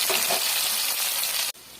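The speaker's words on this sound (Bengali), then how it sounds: "মাছগুলো লাল লাল করে ভাজা হয়ে গেছে" Loud, close crackling sizzle of dried fish and dried shrimp frying in hot oil with cumin, steady and bright, before it drops abruptly to a quieter hiss.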